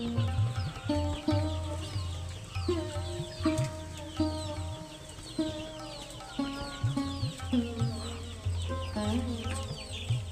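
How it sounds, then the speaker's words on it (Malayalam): Chickens and chicks cluck steadily inside a coop on a poultry farm by a tapioca field, with repeated near, moderately loud clucks and short calls forming a continuous, busy chatter throughout. "അതുകൊണ്ട് കോഴിക്കുഞ്ഞുങ്ങൾ കൂട്ടിൻ്റെ അകത്ത് തന്നെയാണ്"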